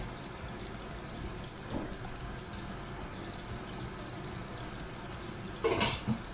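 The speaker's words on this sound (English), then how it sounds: "Let the water run to clean off." Steady low rush of running tap water fills the clip, with a couple of brief splashy bumps near the start and a louder surge toward the end.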